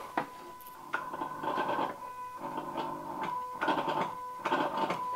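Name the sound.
electronic throttle body whining, Ford Anglia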